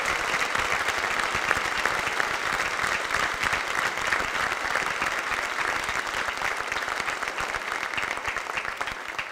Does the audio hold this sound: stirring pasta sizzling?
no